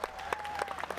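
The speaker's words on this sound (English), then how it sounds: "The applause and happy giggles of the audiences" A brief burst of audience applause, dense clapping from a crowd heard close and fairly loud for about a second.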